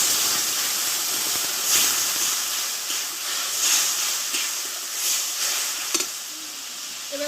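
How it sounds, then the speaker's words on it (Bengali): Water poured into a pan of fried spice paste for a Bengali fish curry, producing a steady loud steaming hiss and sizzle with faint bubbling and a couple of soft clinks near the end. "দেখো মশলাটা ভালোভাবে কষে নিয়েছি এবার আমি জলটাকে দিয়ে দেবো"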